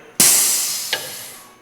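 A sharp burst of compressed air hissing through the anti-smoke valve of a tribute semi truck, loud and close, slowly fading, with a second brief puff of air about three-quarters of a second later.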